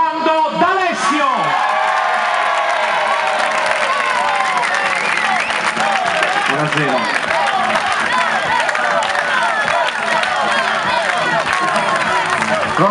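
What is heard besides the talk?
applause from the crowd in the town square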